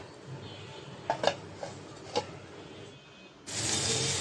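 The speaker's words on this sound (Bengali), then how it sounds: "ভালো করে নাড়াচাড়া দিয়ে ঢাকনা দিয়ে ঢেকে রাখবো" Beef liver is stirred in a cooking pot, a few light metallic clinks and scrapes of the spoon against the pot, followed by a louder hissing sizzle as the lid goes on.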